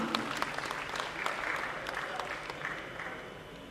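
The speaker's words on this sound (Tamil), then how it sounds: "ஒரு பலத்த கைத்தறி கொடுக்கலாம்." An audience at a Tamil book-reading and film-review award ceremony claps steadily, a dense round of applause that holds its level for a few seconds.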